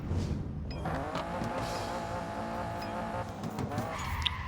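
A car engine in the racing game Need for Speed No Limits over-revs high and strained, holding a whining pitch with tire noise, steady and loud, no voices.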